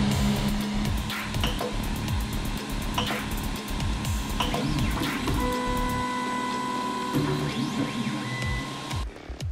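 A 3D printer using two extruders prints a cinewhoop drone frame, with steady mechanical whirring and rhythmic stepper-motor tones shifting pitch as the print head moves, continuous and close throughout.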